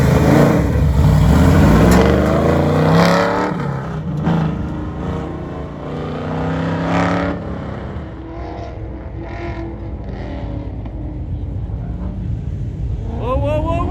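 Mustang and Camaro drag cars racing at a 2021 NMCA event: loud engine roar building and fading as the cars launch and run down the strip, with crowd and voices mixed in.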